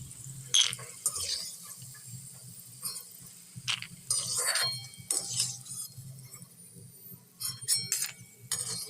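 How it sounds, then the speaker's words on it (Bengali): Fried peanuts are scooped from a pan into a bowl in short bursts of rattling and scraping, with light metallic clinks spread across the clip and a low hum beneath. "চিনেবাদামটা ভাজা হয়ে গেছে। এবার আমি এটাকে একটা বাটির মধ্যে তুলে নিচ্ছি।"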